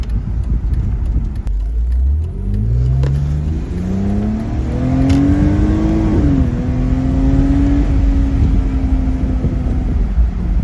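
A BMW E46 with freshly fixed vacuum leaks accelerates hard in fourth gear, its engine note climbing steadily and loud from inside the car, dipping briefly at the shift before pulling on in a smooth, rising drone.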